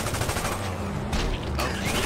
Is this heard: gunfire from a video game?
yes